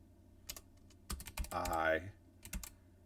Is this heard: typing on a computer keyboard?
yes